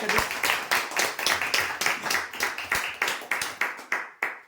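A small group claps for the first winner of a mini fridge at a weekly lucky draw, rhythmic bursts of hand claps close by that swell and fade in repeated waves before trailing off.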